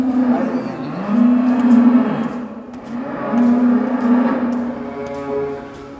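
Dairy cows in a barn on a Groningen dairy farm give long, loud, low moos close by, two drawn-out calls in succession with barn noise beneath, no talk.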